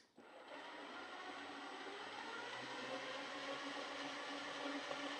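An Ooni Halo Pro spiral mixer runs in a professional bakery with a faint, steady whirring hum that starts abruptly and holds even for about five seconds, no talking over it.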